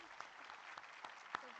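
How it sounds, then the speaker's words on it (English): Audience applause for a minister at a national climate governance summit, a fairly faint, steady patter of clapping through the short stretch with a few sharper claps standing out. "A big round of applause for our Minister."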